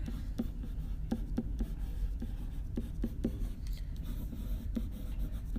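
Marker or chalk strokes on a board during an algebra lesson, heard as short, irregular taps and scratches close by with no talk over them.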